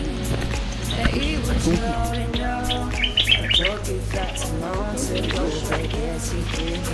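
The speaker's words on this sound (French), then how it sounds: "C'est quoi ce oiseau?" Bird chirps ring out in a rural Moroccan desert-edge setting, repeated short calls layered over a steady low hum, with people talking nearby.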